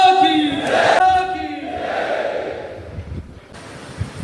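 A crowd at a large public protest rally raises a loud collective shout, a surging burst of many voices that swells and then fades into a murmuring hall.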